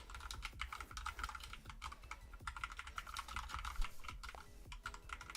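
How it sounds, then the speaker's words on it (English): Steady, busy typing on a Moonlander split mechanical keyboard during live coding, a dense run of crisp clacks close to the microphone with no speech. "one reason I love my Moonlander is it's a split mechanical keyboard"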